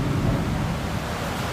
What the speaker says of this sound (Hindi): यहाँ हमारे यहाँ भी बहुत तेज़ी से बारिश हो रही है